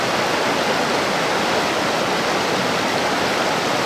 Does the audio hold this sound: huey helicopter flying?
no